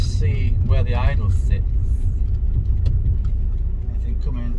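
A Mitsubishi Chariot with a 4D68T engine idling at a stop, a steady low engine rumble heard from inside the car while someone talks over it.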